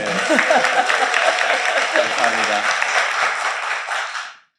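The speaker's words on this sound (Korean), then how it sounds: "의원님 박수 한번 주세요" Audience applause for a lawmaker on a Korean panel show about prosecution reform, continuous clapping that runs several seconds under a voice before cutting off abruptly at the end.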